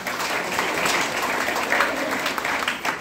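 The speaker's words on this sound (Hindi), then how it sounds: "ठोको ताली उनके लिए।" Audience clapping at a motivational gathering, a sustained wash of applause from a sizable crowd, steady and fairly loud for the full stretch with no talking over it.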